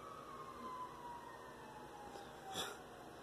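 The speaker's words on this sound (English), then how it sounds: "Some loud sirens." Sirens wail outside, a drawn-out falling tone that is faint and distant, with a brief louder burst near the end.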